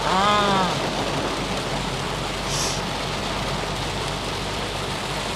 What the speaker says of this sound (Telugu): బయట హెవీ రెయిన్ ఎంత రెయిన్ అంటే రోడ్ అంతా వాటర్ మయమైపోయింది